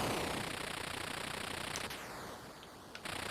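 Gunfire in the Atari 2600 game Rampage comes as a rapid, harsh, buzzy stream of chiptune noise bursts, loud and continuous, briefly dipping before resuming.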